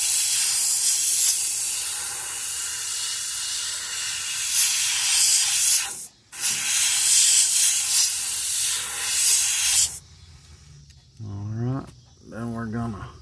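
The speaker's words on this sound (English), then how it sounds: "we're going to spray it at a steep angle going down the side" Spray painting a largemouth bass pattern onto a fishing lure: a steady, loud airbrush hiss runs for about ten seconds with a brief break, then cuts off, and a voice speaks over a quieter background.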